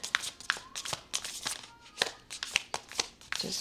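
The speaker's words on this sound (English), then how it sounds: "These cards are so hard to shuffle like this." Tarot cards being shuffled by hand, a run of crisp riffling bursts and slaps in an uneven rhythm, close and fairly loud, with a faint voice now and then.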